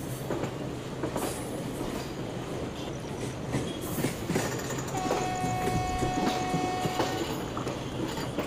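The Howrah-Puri Garib Rath Express rolls slowly into Puri station in the early morning. A loud, steady rumble of wheels and carriages is joined midway by thin, sustained metallic squeals from the wheels.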